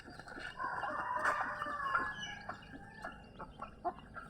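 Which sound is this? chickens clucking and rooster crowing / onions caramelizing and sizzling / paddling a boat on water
chickens clucking and rooster crowing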